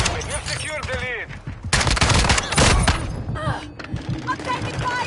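Loud bursts of automatic gunfire in Call of Duty Modern Warfare 2, rapid shots layered with game voice lines and shouting.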